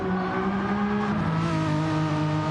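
Race car tyres squealing under strain in a European GT Group 4 racing video game, a steady high-pitched whine over a continuous engine drone, loud and sustained with no pauses.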